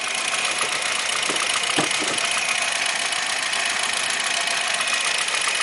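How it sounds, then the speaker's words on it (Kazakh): The engine of a 2017 Kia Rio idles steadily with a constant low hum and faint mechanical rattle, close by and unchanging for several seconds. "Азыр моторду да тыңшап көрөлү."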